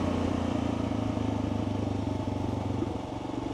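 A Kawasaki KLR motorcycle rides a rough rural road near Cazadero, California, with a steady, loud engine drone and rumble. Faint clattering and wind run beneath it throughout, and nobody speaks.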